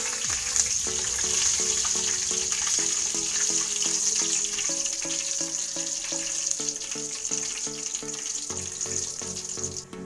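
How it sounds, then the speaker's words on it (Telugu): Curry leaves and dried red chilies frying in hot oil, a loud continuous sizzle and crackle with steady stirring strokes, close and without talk. "ఇలా దోరగా వేగిన దానిలో 1 రెమ్మ కరివేపాకు, 2 ఎండుమిర్చి వేసుకుని కలుపుకోవాలి."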